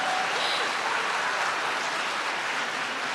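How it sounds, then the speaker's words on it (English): Applause from an awards ceremony audience for a university physician assistant program, a dense, even patter of many hands clapping at moderate volume for a few seconds, with no talking. "Somehow I knew that would get an applause."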